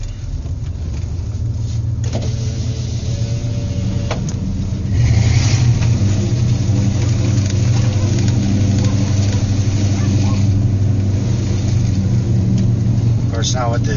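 A 1995 Ford F250 pickup with a 7.5L engine and new exhaust rumbles steadily at idle, then rises to a louder, deeper drone as it is revved and held, with faint talk nearby.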